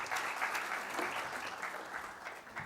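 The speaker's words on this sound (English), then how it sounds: "A round of applause" An audience at an agro-dealer conference session claps steadily in a dense, continuous round of applause from start to finish, moderately loud.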